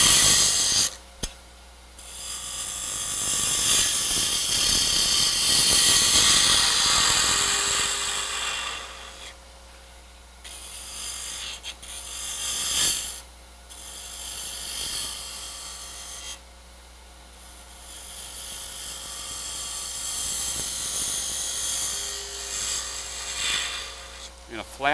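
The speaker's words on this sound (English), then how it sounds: "So I'm just going to use a spindle gouge." A wood lathe hums steadily while a spindle gouge cuts a bead, producing a loud, rough scraping hiss that comes and goes in bursts with short pauses between passes.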